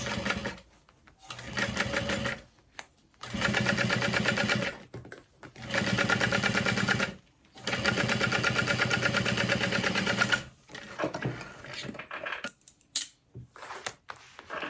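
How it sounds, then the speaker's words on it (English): Sewing machine stitching along the bottom edge of a Catalina cross-body sling bag, running in several steady bursts separated by brief pauses, close and loud, ending in short stop-start runs. "Sew along the bottom edge."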